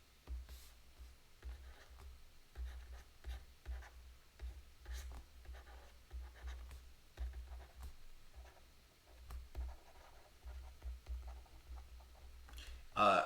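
Pen or marker scratching and tapping while writing by hand, faint and close, in short irregular strokes against a quiet room hum.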